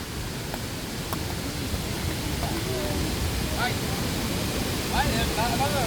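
Steady roar of a waterfall torrent swollen by heavy rain fills the scene, broad and constant, with faint bird chirps and a few voices drifting through.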